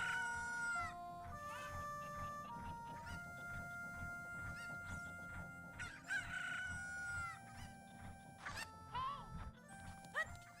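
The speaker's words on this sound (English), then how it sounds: "That was actually kind of close to messing it up and having all the chickens attack me." Chickens in Ocarina of Time cluck and squawk repeatedly in quick, overlapping calls, bright and game-like, while a person talks over them intermittently.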